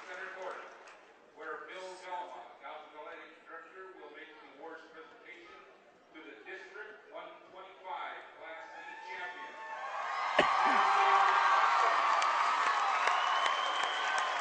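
Crowd applause at a high school district final basketball game between Munising and Superior Central. An announcer talks first, then a loud burst of clapping and cheering swells in from both crowds and continues steadily to the end.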